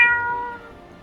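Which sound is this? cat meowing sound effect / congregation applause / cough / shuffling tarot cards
cat meowing sound effect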